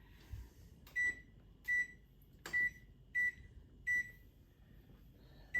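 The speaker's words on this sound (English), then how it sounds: "when I turn on the oven to warm it up for rising" Beeps from a home oven switched on to its lowest setting, about six short clear electronic tones spaced roughly every 0.7 seconds over faint background hiss.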